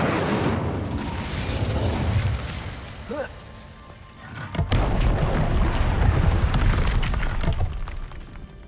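Incendio fire spell blasts in the video game Hogwarts Legacy, two loud booming bursts with a sharp crack between them, surrounded by rumbling game noise and a voice speaking.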